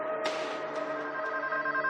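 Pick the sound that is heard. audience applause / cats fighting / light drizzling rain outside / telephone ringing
telephone ringing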